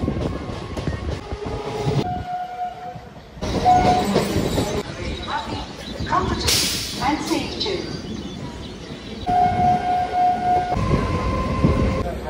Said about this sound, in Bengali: এখন ট্রেনে বসেছি